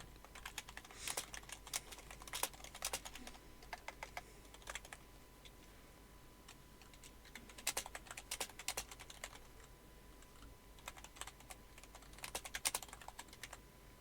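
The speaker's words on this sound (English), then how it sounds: "I'm just trying to get the chat up while also typing" Quick, irregular clatter of typing on a computer keyboard, coming in bursts separated by short pauses, fairly close and quiet in an otherwise calm room.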